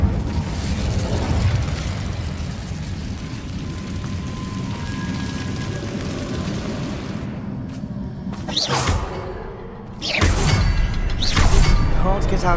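An Incendio fire spell explodes in Hogwarts Legacy, a loud roaring, crackling rush of fire lasting several seconds, followed by sharp bursts and renewed blasts near the end, all close and heavy.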